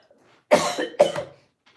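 Two quick, harsh coughs close to the mic, one right after the other, with near silence around them.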